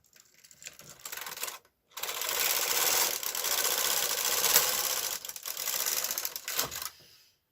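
A domestic knitting machine carriage is pushed across a row, giving a continuous mechanical rattling and clatter that runs for several seconds with brief pauses at each end, close and fairly loud.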